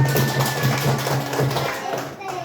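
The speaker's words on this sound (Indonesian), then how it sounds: "Ayo, beri tepuk tangan." Pupils in a classroom give a short round of applause for a classmate, steady clapping that runs for a couple of seconds with a voice talking over it.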